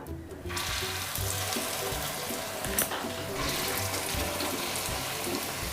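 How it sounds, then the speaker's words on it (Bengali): Malabar spinach leaf fritters deep frying in hot oil, giving a dense, continuous bubbling hiss with a brief scrape near the start and no speech. "তেল গরম হয়ে গেছে, এরপর পুঁই পাতার বড়া ভেজে নেব।"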